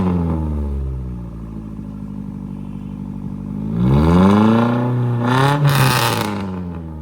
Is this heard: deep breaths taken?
no